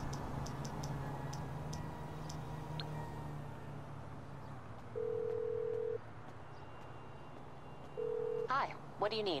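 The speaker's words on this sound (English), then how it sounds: "call Miss Baker on your phone" Phone dialing a call in the video game GTA 5, with two long flat ringback tones about two seconds apart under background game music and ambience, and a soft electronic chirp at the end.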